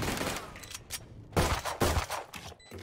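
Stinger submachine gun fire in the shooter game Valorant crackles in short rapid bursts, fairly quiet, separated by brief gaps, with no talk over it.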